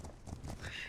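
Horse hooves clip-clop in a virtual world game, a quick, even run of hoofbeats at moderate volume with no talk over them.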